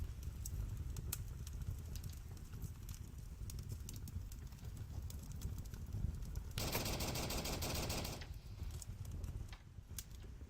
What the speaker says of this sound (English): Shots fired at towards the roof.